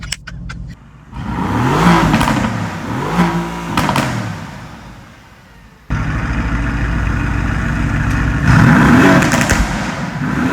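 A car engine revs outside, rising and falling through several throttle blips and holding a loud, steady roar nearby, with no talking over it.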